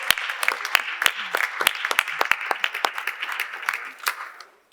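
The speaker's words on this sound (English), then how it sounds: "a warm applause" Conference audience applause, fairly loud and close, with sharp individual claps over a dense patter and some voices mixed in, before it tapers off near the end.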